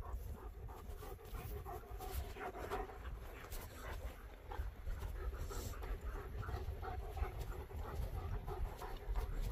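Dogs panting at a steady rhythm close by, German Shepherd pups and a Staffie bitch outdoors in Scotland, with faint movement and background noise and no clear talk.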